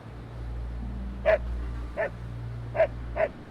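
Four short, muffled dog barks sound from a game dog in Drakensang: The Dark Eye, spaced irregularly over a steady low ambient hum, moderately loud and somewhat distant.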